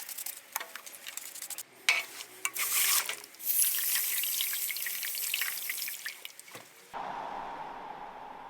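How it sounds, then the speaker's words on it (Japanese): Plastic engine parts from a Mazda RX-7 FD3S restoration are washed by hand in water with car shampoo, giving close splashing, dripping and sloshing with irregular scrubbing bursts, fairly quiet and without talk. "プラスチックパーツ、これは洗剤で水洗いやっていきます。"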